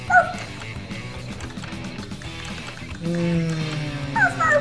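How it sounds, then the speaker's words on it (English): A small dog yips and whimpers in short, high, repeated bursts, fairly close, over a steady background of game music. "Fucking little dog."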